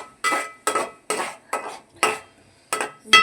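A spoon stirs salt into fish pulusu in a pot, giving seven distinct scraping, clinking strokes in a steady rhythm, each a short bright burst of metal against the pot, close and fairly loud with no talking.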